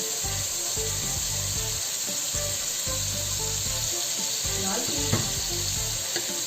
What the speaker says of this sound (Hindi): क्योंकि हमने योगर्ट को भी अच्छा सा भूनना है। अब ये हमारे मसाले भूनने के हैं।